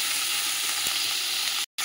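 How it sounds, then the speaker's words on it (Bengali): Potato and eggplant pieces frying in hot oil with salt and turmeric, giving a steady, close sizzle throughout with no talk, broken by a brief silent gap near the end. "এই যে আলু আর বেগুন কেটে রেখেছিলাম এটা দিয়ে দিলাম। দিয়ে নুন হলুদ দিয়ে ঢাকা দিয়ে দেবো"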